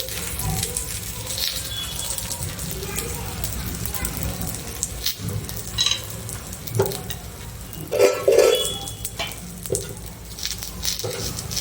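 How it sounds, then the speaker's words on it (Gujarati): Methi thepla, a Kathiyawadi-style fenugreek flatbread, frying in oil on a hot griddle, giving a steady soft sizzle with occasional louder crackles and scraping, accompanied by faint background noise. "હવે આપણે તેલવાળી કરી લઈશું અને આપણે થેપલી નાખીશું."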